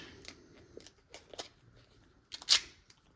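Bacon-print duct tape is torn and handled for masking a knife blade, making a few sharp rips and crinkles with a loud tearing burst near the end and quiet pauses between.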